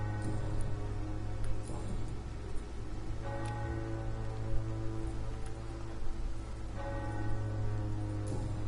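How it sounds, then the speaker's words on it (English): Church bell tolling in the video game Vampyr, several spaced strikes ringing out over a steady bed of rain on a surface, moderately loud with no talk. "I didn't hear how many bell rings that was"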